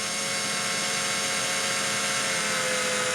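A power drill runs steadily while twisting wire to straighten and strengthen it for floral design work; a continuous, loud whirring hum holds throughout with no talk.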